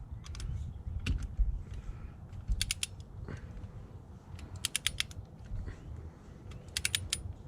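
A Harbor Freight torque wrench ratchets in quick bursts of clicks while a spark plug with a crush washer is tightened down on a Toyota engine, close and faint, with short pauses between the clicking runs.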